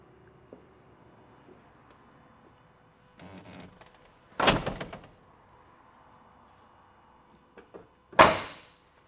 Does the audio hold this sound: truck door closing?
yes